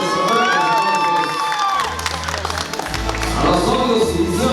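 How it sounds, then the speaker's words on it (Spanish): Wedding guests at a celebration in San Agustín Oapan cheer and clap as the couple's waltz begins, a dense crowd roar with whoops and shouts layered over music, loud and sustained throughout. "Fuertes los aplausos, fuertes aplausos."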